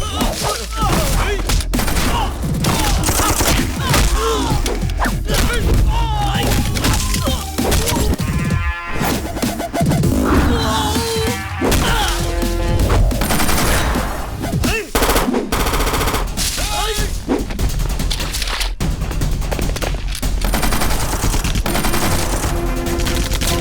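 Dense bursts of gunfire crack and rattle through a loud action-movie fight scene, with rapid volleys and crashes layered under dramatic score and occasional shouted voices.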